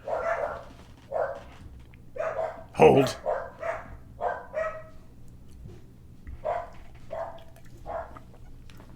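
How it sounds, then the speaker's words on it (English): Several dogs bark and yip repeatedly indoors in short bursts while someone talks over them at close range. "My dogs are going crazy."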